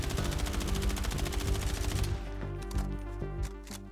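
M433 rifle firing full auto in the video game Battlefield 6, a rapid steady stream of loud close shots for about two seconds, then a few isolated echoing thumps over a low rumbling game background.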